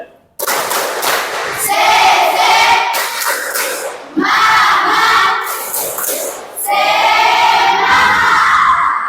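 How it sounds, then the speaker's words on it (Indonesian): A group performs rhythmic spirit clapping, tepuk semangat, in loud bursts of fast claps with shouting voices, three energetic sections separated by short pauses, close and crowded. "Coba tepuk semangat."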